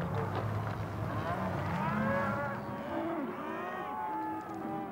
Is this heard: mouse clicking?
no